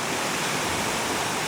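Fast-flowing river rushing steadily, a dense, continuous broadband roar of water close by with no voices.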